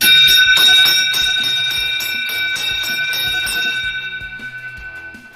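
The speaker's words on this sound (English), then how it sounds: "that's a real lap bell, not one of the rinky-dink bells" A loud, high-quality lap bell rung rapidly at a bicycle race to signal the final lap, bright metallic clangs repeating close by before the ringing fades toward the end.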